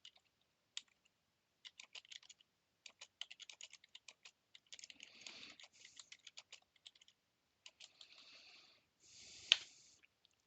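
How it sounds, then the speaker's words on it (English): Keys clatter on a computer keyboard during a Starfinder tabletop session run in Fantasy Grounds Unity, coming in quick bursts and sparse taps with short pauses, faint and close, with no voices. "Let me type it here."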